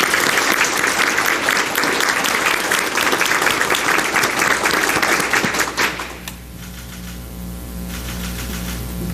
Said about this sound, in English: Let's give these all-state star bowlers a round of applause.